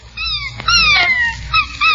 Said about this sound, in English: plays happily by the fire with his Christmas puppy